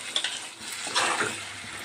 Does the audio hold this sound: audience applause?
no